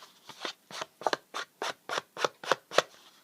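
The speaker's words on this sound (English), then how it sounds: "sometimes I like to take the ink pad. This is Faded Jeans, and I just like to rake it directly right on the edge." A Distress ink pad in Faded Jeans is raked along a paper edge in about ten quick, evenly spaced scraping strokes, soft and close with a dry papery rasp.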